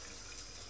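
A steady stream of water pours into a microwave baby bottle sterilizer, a continuous close rushing splash with no breaks.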